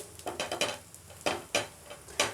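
Rice flour roti (akki roti) frying in oil on a pan, with soft sizzling broken by several sharp spatula scrapes and taps against the pan, close and moderately loud.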